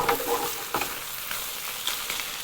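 A steady sizzle of pork, sugar snap peas, water chestnut and bamboo shoot stir frying in a pan, with a few soft clinks and scrapes of stirring, close and fairly quiet.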